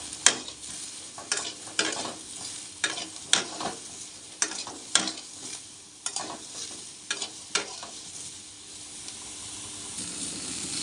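Pointed gourd with salt is stirred in a frying pan, the spatula scraping in a run of sharp strokes over a soft sizzle, the strokes thinning out toward the end, with no talking.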